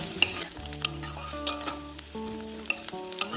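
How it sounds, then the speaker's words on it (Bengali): Crushed garlic sizzling with browned onions in hot oil for a red spinach and prawn dish, a steady frying hiss with sharp crackles and stirring clicks, with tonal music running underneath. "এবার আমি এর মধ্যে দিয়ে দেবো থেতো করা রসুন। রসুনটাও হালকা ভেজে নেব"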